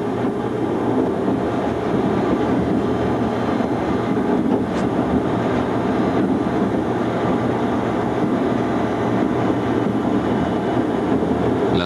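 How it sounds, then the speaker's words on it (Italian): Freight train 43055 from Villach Süd to Mestre passing on the Pontebbana railway near Bagni di Lusnitz, a loud steady rumble of rolling wagons lasting throughout. "si incrocia il treno 43055 Villaco Sud Mestre"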